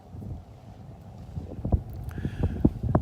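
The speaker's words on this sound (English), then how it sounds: "You can hear that wind when I turn around and look towards the east at the sunrise." Breezy wind gusts buffet the microphone on a beach in North Naples, Florida, at sunrise, a low rumbling roar that swells and thumps in bursts toward the end.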